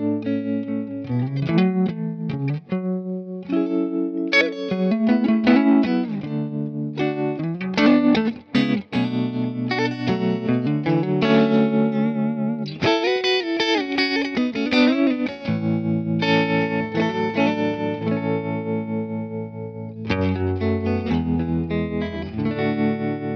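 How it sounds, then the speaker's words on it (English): Electric guitar played through a small amp with tremolo and reverb, a continuous run of chords and single-note lines, loud and close, with pulsing, washy sustain and no talking. "Has reverb and what's most important for me, I gotta have tremolo"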